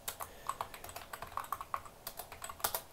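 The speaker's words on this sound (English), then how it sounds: "I'm going to type sudo apt" Rapid, uneven keystrokes on a computer keyboard as a terminal command is typed on a PowerPC machine dual-booting Linux and Mac OS X, close and crisp with no talking.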